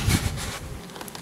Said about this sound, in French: Ah bah là il y a de l'abeille là.